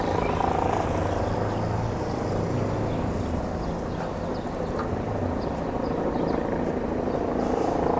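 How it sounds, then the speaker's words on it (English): A steady, broad rotor-and-engine drone fills the whole stretch, a continuous low roar of helicopters passing at some distance over New York City. "oh wow, there's 2 helicopters there too"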